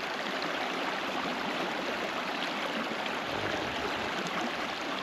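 A small stream flows steadily at a fishing spot, a continuous broadband rush and babble of water, close and even throughout with no voices.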